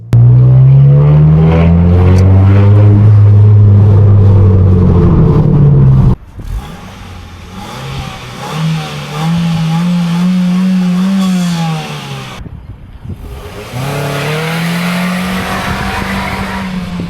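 Straight-piped 2003 Ford Focus 1.6L revving loudly in three separate bursts, each climbing and falling in pitch, with a raw, rasping exhaust note up close.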